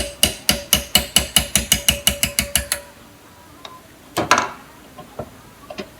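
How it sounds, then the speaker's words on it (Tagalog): A puller is worked to remove the bearing from a Look cleat-style bicycle pedal during an overhaul: about fourteen quick, evenly spaced ratcheting clicks, close and crisp, then a pause with a few scattered metallic knocks and clatters. "So, kailangan po natin ng gato talaga. Para matanggal natin yung bearing mga kapadyak."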